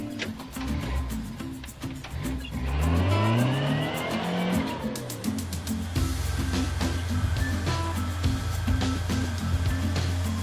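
A car tears around a parking lot with its engine revving hard and rising in pitch, tires squealing and skidding through the turns, loud and close throughout.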